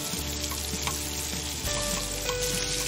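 Scallops pan-seared in butter with garlic and spices, a steady close sizzle and crackle from the pan with a low hum underneath, no voices.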